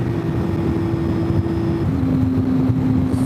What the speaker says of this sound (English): God, I love the sound of this triple.